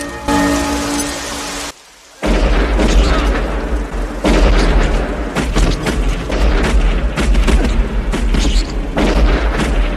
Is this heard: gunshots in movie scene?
yes